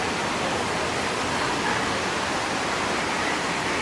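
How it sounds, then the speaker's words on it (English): Small waterfalls spill out of rocks along the San Antonio River Walk, giving a steady, broad rush of falling water that holds even and fairly loud throughout, with no voices over it. "the little waterfalls coming out of the rocks"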